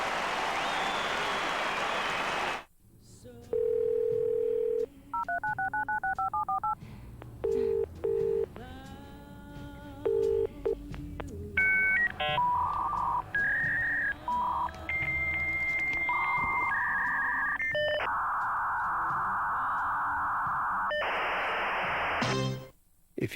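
Dial-up modem connection sequence in an iPrimus Broadband advert: dialing tones, then a rapid run of steady beeps, chirps and hissing handshake bursts, loud and alone with no talk, ending in a burst of static noise.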